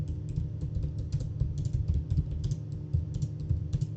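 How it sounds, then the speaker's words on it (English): Rapid, uneven clicking of keys on a computer keyboard as a command is typed, close and steady for several seconds over a low background hum. "So you're going to have to type in one more command."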